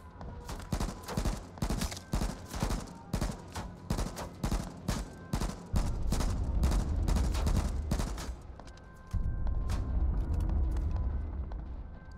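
AK rifle fire in the H1Z1 video game: rapid bursts of sharp shots in a quick irregular rhythm, then a deeper rumbling stretch with a short pause before more firing, loud and close with no talk.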